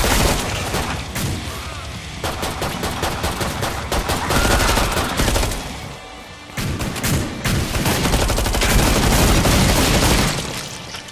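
Rapid bursts of automatic gunfire and booming shots fill a Killing Floor 2 firefight, dense and loud throughout with only a brief lull near the middle.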